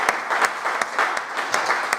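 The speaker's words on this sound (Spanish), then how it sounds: "Dale un aplauso al Señor." A church congregation claps in applause during a worship service, a dense, steady patter of many hands with rhythmic accents, fairly close and continuous.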